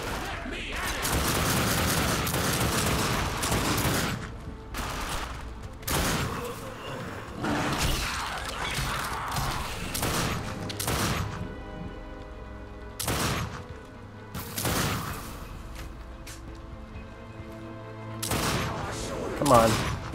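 Rapid bursts of gunfire and heavy impacts from the video game The Darkness 2 come in irregular volleys, punchy and fairly loud, with brief lulls between them.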